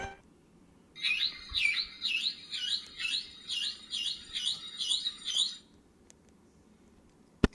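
A video game toy bird flies off with about ten quick, evenly spaced high electronic chirps in a steady rhythm, then falls quiet apart from a couple of faint clicks.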